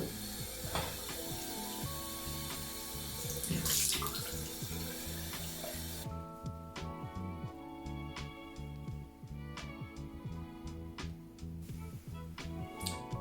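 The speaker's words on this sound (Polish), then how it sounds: "Teraz sobie umyję twarz pod bieżącą wodą." Running tap water at a bathroom sink while a face is washed under it, close steady splashing with cupped-hand splashes and shifting flow, the stream thinning into a lighter trickle partway through.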